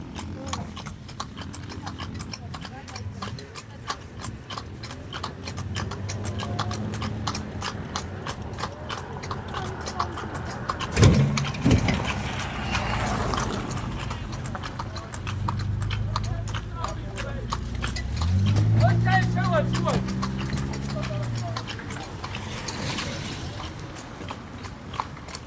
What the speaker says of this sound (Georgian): ცხენი ტაქსი.